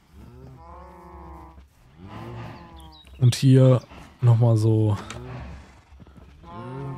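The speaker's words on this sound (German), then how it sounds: "Dann habe ich hier quasi einen Stall mit Kühen, einem Pferd." Two loud, drawn-out cow moos from a video game barn rise over a person talking, one right after the other, close and clear.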